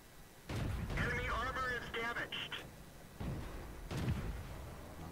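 Tank cannon fire in World of Tanks while driving a T34, with booming shots and rumbling blasts mixed with in-game radio chatter and a player talking over the action.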